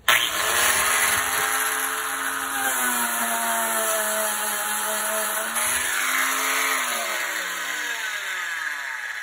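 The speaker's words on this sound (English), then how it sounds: "I'm gonna use this just to grind it down and just kind of smooth it out, flatten it out" A power tool grinds down a bumpy surface on a boat hull, giving a close, continuous whine whose pitch sags and recovers as it bears down on the high spots.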